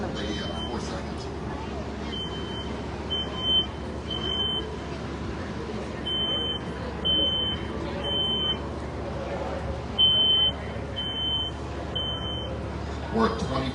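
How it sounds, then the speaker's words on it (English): A residential smoke alarm in a fire sprinkler demonstration at a state fair shrills in repeated short paired beeps over a steady rush of spraying water and crowd noise, with people talking. "the smoke alarm activated approximately 4 seconds."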